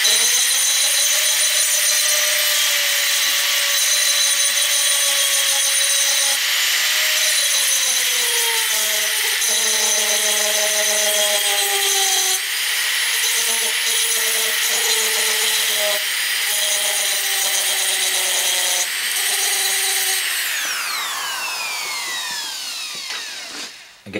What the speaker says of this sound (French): je vais prendre un petit tambour de ponçage,